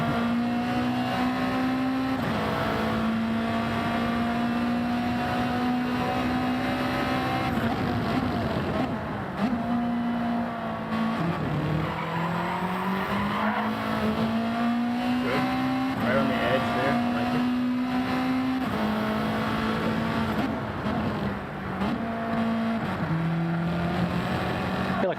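Race car engine in Gran Turismo 7 at the Red Bull Ring, a loud continuous whine rising and falling through gear changes across the lap, with faint tire noise and people talking over it.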